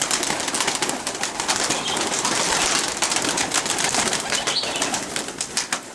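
Dense outdoor birdsong and chatter fill the air, with pigeons cooing among them and bursts of wing flapping from flying performance pigeons, steady and fairly loud throughout.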